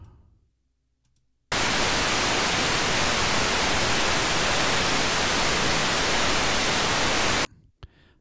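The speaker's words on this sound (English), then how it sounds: "I still have a lot of interference, so that's not going to solve all my problems" Loud, steady hiss of radio interference static from an SDR receiver behind an FM notch filter, starting abruptly after near silence, running unbroken for about six seconds, then cutting off sharply.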